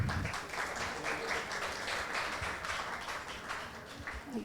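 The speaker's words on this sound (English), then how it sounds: "let's give him again a round of applause" A faint, distant round of applause from an audience at a sustainability-reporting panel session, continuous and even for a few seconds.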